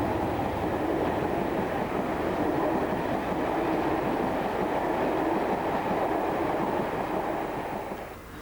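An empty stock train on British Rail passes close by in a steady, continuous rumble of wheels and carriages that holds for several seconds before fading at the end.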